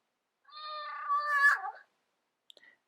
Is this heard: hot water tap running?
no